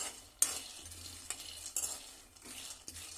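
Ingredients stir-fried in a pan for a Sankranti festival dish: close, quiet sizzling with several distinct scraping and clinking strokes of a utensil against the metal, and no voices.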